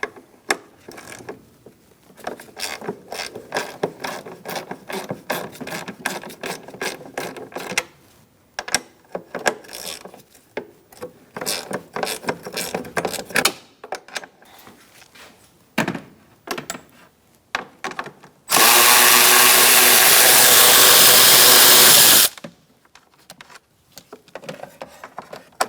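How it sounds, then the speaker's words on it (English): A 10mm socket on a ratchet loosens two nuts on a Ford Focus, a long run of close, rapid ratcheting clicks broken by short pauses, then a few seconds of steady loud whirring from a power tool before the clicking resumes. "now we're going to loosen up these 2 nuts. I'm going to use a 10mm socket to do that."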